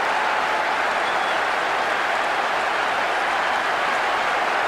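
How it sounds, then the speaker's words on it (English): Video game crowd in PES 6 on PS2 roaring in a sustained wall of cheers and noise after a late extra-time goal, steady and loud throughout with no pauses. "most of the crowd not happy about that goal"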